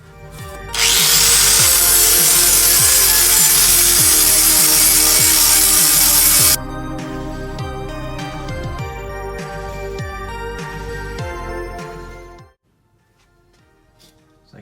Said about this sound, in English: I'm gonna go ahead and clean it up now with the flat wheel.